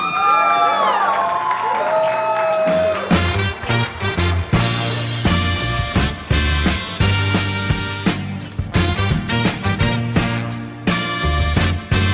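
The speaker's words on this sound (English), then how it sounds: "One more time, big round of applause for your bride and groom" Wedding guests at The Liberty House in Jersey City cheer and applaud the bride and groom, a loud crowd roar with whoops over a band starting a song with heavy drums and bass, the music dominating after the first few seconds.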